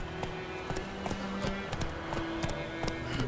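Hooves of the horse Roach in The Witcher 3 thud in a steady, fast rhythm, a run of close, regular beats with a faint whinny-like tone mixed in.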